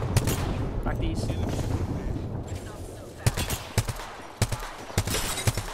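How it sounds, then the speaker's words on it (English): Explosions and gunfire from an airstrike in the battle royale game Apex Legends: sharp, loud bursts land in a quick cluster in the second half, over a steady rumbling background and under occasional voices. "Airstrike, is that ours?"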